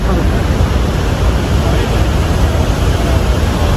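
A powerful waterfall roars steadily and loudly, a dense, unbroken wash of rushing water close by, with no pauses.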